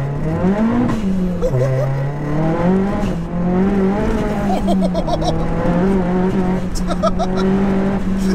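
A fully forged, big-turbo 480 bhp Seat Leon Cupra R revs hard while accelerating, its loud, droning engine note climbing and dipping through the gears close up, with cabin noise throughout.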